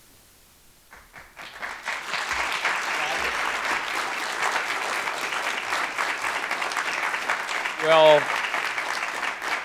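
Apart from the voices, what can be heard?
audience applause after lecture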